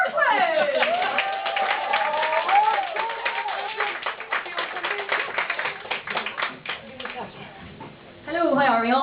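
A comedy club crowd in Dublin applauds a comedian onto the stage, brisk clapping and some cheering under a host's voice, then the comedian begins talking.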